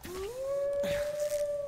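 A single wolf in a video game lets out a long, rising howl that holds a steady pitch for over a second, close and clear, with a faint rustle partway through and no talking.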